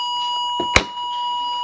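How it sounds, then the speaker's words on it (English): A single short electronic beep from a Loopz toy in test mode, sounding once over a steady faint hum. "It'll beep."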